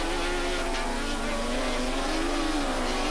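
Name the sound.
racing sidecar engines at Calder Park circuit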